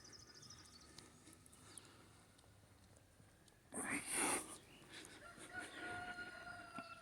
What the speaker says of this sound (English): But here's the chickens crowing.